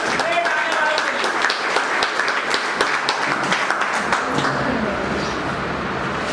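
Dense applause from a crowd, steady clapping that fades slightly toward the end.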